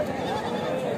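Goats bleat at a busy weekly sheep and goat market, a short burst of animal calls mixed with crowd noise and nearby talk.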